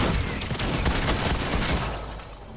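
Dense gunfire in Fortnite duos, a loud, crackling volley of rapid shots that runs nearly the whole time and then fades near the end.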